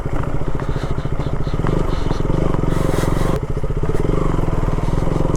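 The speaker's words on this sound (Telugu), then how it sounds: "స్కూటీ వేసుకొని కొండెక్కిస్తున్నాడు," A scooter hauls three riders up a hill on an off-road stretch near Araku, its engine buzzing loud and steady throughout with rattling and clatter, briefly dipping midway before resuming.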